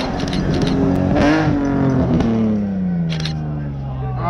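A rally car at the Sno* Drift rally passes close by, its engine note rising and falling in a continuous loud drone as people talk over it.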